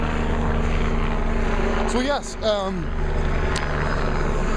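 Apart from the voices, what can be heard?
helicopter flying overhead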